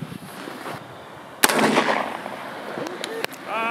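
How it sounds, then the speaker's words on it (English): Handguns fired in a mag dump into discarded body armor found in the trash, a sharp loud report followed by a few scattered, fainter shots, with voices in the background. "let's just mag dump some handguns into it"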